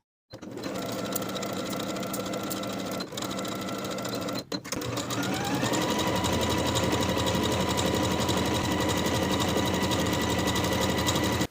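A sewing machine runs continuously, stitching the center seam of a bodice with a half-inch seam allowance, its steady mechanical whir loud and close with a brief hitch partway through and no talking.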